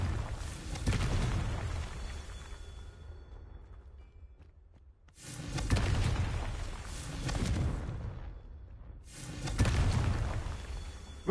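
Confringo blasting spells fired in a wizarding video game, three separate booming explosions spaced a few seconds apart, each a loud broadband burst that rumbles and decays, with quieter background between them.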